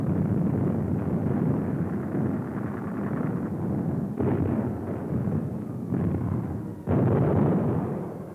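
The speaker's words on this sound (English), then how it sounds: "Ships all up and down the line joined in the barrage. The din was terrific." Naval guns from ships along the line bombard the Iwo Jima shore in a wartime barrage, a loud, continuous rumbling roar of overlapping blasts with sharp new booms around four and seven seconds.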